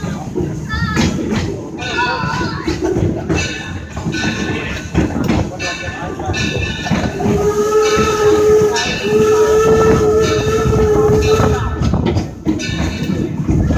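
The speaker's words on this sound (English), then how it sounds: "The historic locomotive filling us today is the Torch Lake, the oldest steam locomotive operating in the United States, built in 1873" Torch Lake, an 1873 steam locomotive, hauls a train ride in a historic village; steady rumble of rolling cars with a sustained whistle tone midway, mixed with crowd chatter and people talking throughout.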